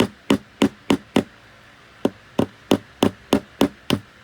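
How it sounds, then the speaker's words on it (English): Hammer striking nails in a cramped, tight spot during a building project, a quick run of five sharp blows, a short pause, then six more evenly spaced strikes, close and loud with no talking. "it's a very small spot to get a hammer"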